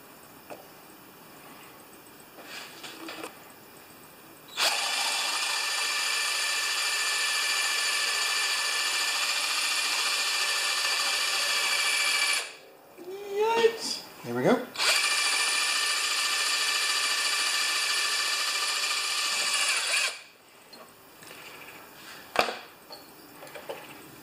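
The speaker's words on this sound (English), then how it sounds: "I think I'm cutting aluminum there, not steel." A power tool cutting aluminum during a repair on a non-starting 6HP Craftsman mower whines loudly and steadily in two long runs, split by a brief pause with scraping and clatter, and quiet shop sounds come before and after.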